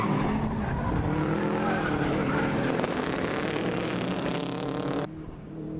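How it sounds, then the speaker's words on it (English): Rallycross cars in a BTRDA championship round at Pembrey roar along a gravel section, engines loud and close in a dense, continuous growl that drops away abruptly near the end. "As they come back into the gravel once again, Nigel Burke still sitting in fifth place."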